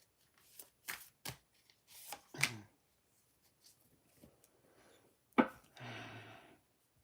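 A deck of tarot cards being shuffled, with several quick riffles and flicks separated by quiet gaps, close and soft.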